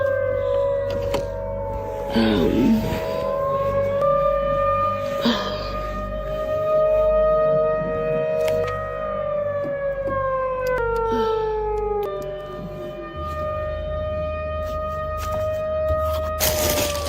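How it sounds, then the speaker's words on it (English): Outdoor tornado warning sirens drone through the night, multiple wailing tones rising and falling in pitch over one another, interrupted by a few brief knocks and rustles nearby. "the calm night was broken by loud sirens"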